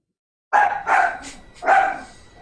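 A dog barks three times, loud and close, each bark ringing out with a short gap between and no talk over it.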